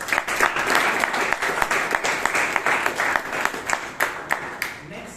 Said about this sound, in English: please give Ujyant a big round of applause